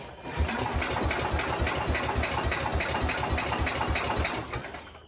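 An International Harvester Cub Cadet 147 tractor engine cranks over rapidly on its starter generator, a fast, even chugging rhythm that holds steady for several seconds, then stops.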